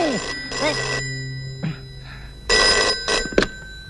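A telephone ringing in a comedy film scene, short repeated electronic ring bursts with pauses between them, close and clear, with no talk over it.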